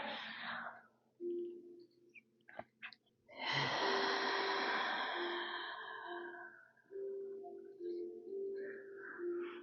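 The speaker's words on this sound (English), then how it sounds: "Is that somebody yawning?" A person lets out a long, drawn-out yawn with a breathy rise and voiced tail during a quiet Pilates class, preceded by soft breaths and followed by faint humming tones.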